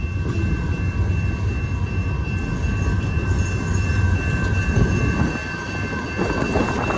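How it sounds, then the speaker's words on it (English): A long Union Pacific freight train of covered hoppers and centerbeam lumber cars rolls along the Palmdale Cutoff, a steady low rumble with wheel and rail noise, distant and continuous throughout. "See that train all the way down there?"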